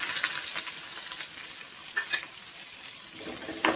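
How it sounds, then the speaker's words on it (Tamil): Shallots sauté in tempering oil for a spicy tamarind curry, sizzling and crackling steadily with occasional louder pops and stirring scrapes, close up and without talking. "இப்போ இது வந்து தாளிப்பு எண்ணெயில் சேர்த்துக்கலாம்"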